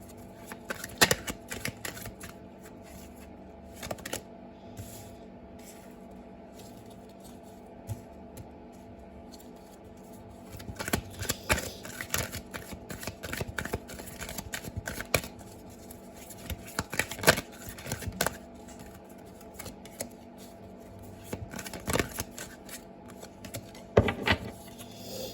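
A deck of tarot cards being shuffled by hand, giving bursts of riffling and soft slapping at close range, with stretches of quieter handling between the bursts and a faint steady hum underneath; no one speaks.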